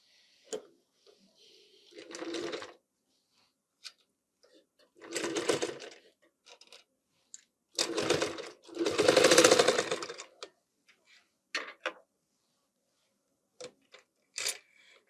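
Sewing machine stitching a fabric piece for a baby chest cover, running in several separate bursts of steady mechanical whirring, some short and some a few seconds long, with quiet gaps and small clicks between them.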